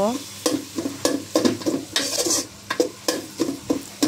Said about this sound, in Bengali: এই তো নাড়াচাড়া করে মশলাগুলোকে কষানো হচ্ছে